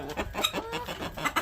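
Chickens cluck in a coop that is being readied for cold weather, giving a quick run of close, overlapping clucks and murmurs.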